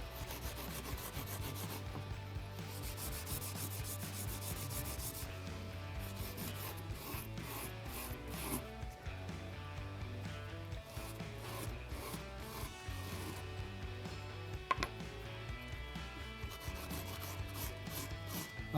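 A red Scotch-Brite pad polishes a metal torch holder, producing continuous close scrubbing strokes in a steady back-and-forth rhythm, with no voices.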